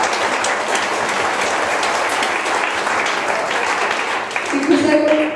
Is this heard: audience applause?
yes